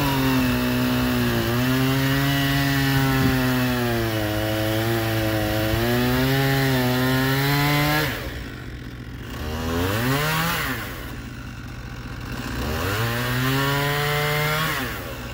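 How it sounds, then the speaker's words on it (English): A chainsaw cuts through wood with a loud, close snarl whose pitch sags and climbs as the chain bites. The engine drops back to a brief lower idle twice before revving into the cut again. "let's go cut some wood"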